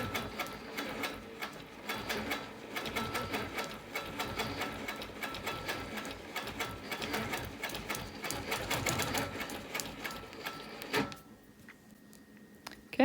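A sewing machine stitches a wholecloth quilt in a steady rapid mechanical chatter of needle strokes, close and continuous for about eleven seconds, then stops, leaving a quiet room with a few faint clicks.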